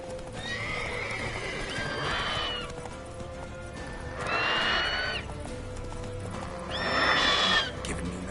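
Roach, the horse in The Witcher 3: Wild Hunt, gallops with steady hoof clatter and neighs loudly three times in the foreground.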